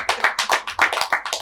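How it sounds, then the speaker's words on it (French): Rhythmic clapping from an audience at the close of a Congolese French-language religious broadcast, a series of sharp unison hand claps in quick bursts, close and loud with no cheering voices evident. "Est-ce qu'on peut donner les acclamations dignes à l'Éternel?"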